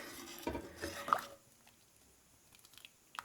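Soft squishy stirring of cooked moringa leaves dal with carrot pieces in a pot, a few wet scrapes and clinks at the start, then quieter patters and a last faint tap.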